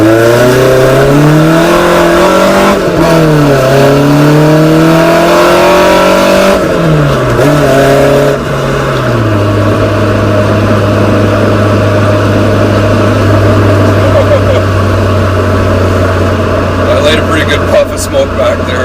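A Nissan 240SX S13 engine revs loudly during a drive, its pitch rising and falling through gear changes before settling into a steady drone, with talk over the engine noise throughout.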